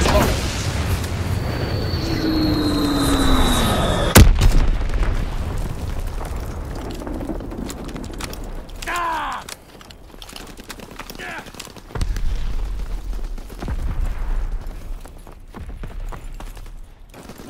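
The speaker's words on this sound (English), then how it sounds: "Dropping Fritz X bomb." A Fritz X bomb detonating in a WW2 video game, a sudden sharp blast after a falling whistle, followed by rumbling aftermath and scattered impacts under some game voice lines.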